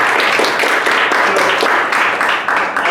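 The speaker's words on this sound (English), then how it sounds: "let's give him a nice round of applause" A crowd of students applauds a speaker at a leadership academy session on personal branding, a steady, dense wash of clapping that holds evenly for the full stretch without any speech over it.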